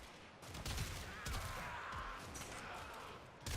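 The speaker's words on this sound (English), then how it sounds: "Getting to see how this weapon fires is actually pretty much an extra bonus right here." Rapid-fire weapon in Warframe shooting in a sustained burst, a dense rattling stream of shots with a few sharper cracks, played quietly with no voices.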